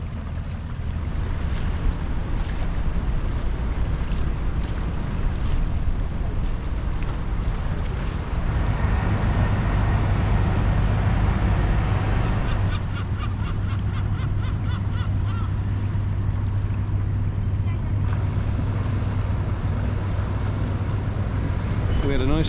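Boats motoring in a fleet along a Dutch canal on the Standing Mast Route, steady engine drone under wind buffeting on the microphone, with a voice talking over it.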